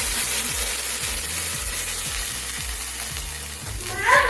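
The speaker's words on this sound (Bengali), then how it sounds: "এবার মশ তেলটা গরম হয়ে গেছে এর মধ্যে মশলাটা দিয়ে দেবো" Spice paste drops into hot oil in a pan for a chicken dish, producing a steady bubbling sizzle with a faint repeating background hum and a brief louder burst near the end.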